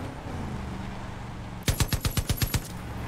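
Machine gun fire in Far Cry 5 bursts in after a quiet stretch, a quick string of about eight loud, evenly spaced shots up close, with no talking.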